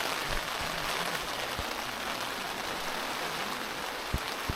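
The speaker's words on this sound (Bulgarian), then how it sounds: "Яко вали." Heavy rain pours steadily at a mountain hut, a dense, constant hiss with a few scattered louder drips and taps, fairly faint overall and without any voices.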